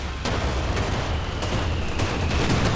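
Anti-aircraft half-track cannon in Company of Heroes 2 hammering a Puma armoured car: a dense, continuous barrage of loud gunfire with sharp repeated cracks over a heavy low rumble, no voices.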